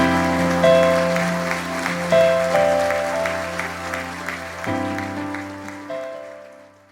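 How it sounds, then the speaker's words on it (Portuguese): A church congregation applauds during a pastoral ordination service, clapping rising and falling in waves over sustained organ or keyboard chords before fading away. "Aplaudam ao Senhor."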